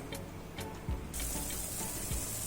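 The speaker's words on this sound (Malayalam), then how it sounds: "ഇപ്പോൾ വെള്ളം ഇവിടെ നല്ല വെട്ടി തിളയ്ക്കാൻ തുടങ്ങിയിട്ടുണ്ട്." Water coming to a rolling boil in a pot for cooking rice, with a steady broadband bubbling hiss that swells louder about halfway through and stays constant, with a few low knocks beneath.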